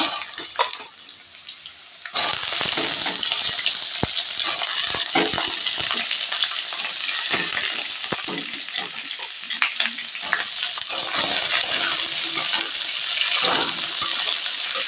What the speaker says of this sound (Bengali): আলুগুলো হালকা ভাজা ভাজা হয়ে গিয়েছে এবার আমি ঝিঙেগুলো দিয়ে দেব